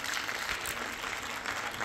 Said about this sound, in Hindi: एक बार जोरदार तालियां कर दीजिए समूची टीम के लिए